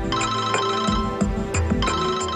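A mobile phone ringtone for an incoming call plays a repeating melodic electronic pattern, loud and steady throughout, with no talking over it.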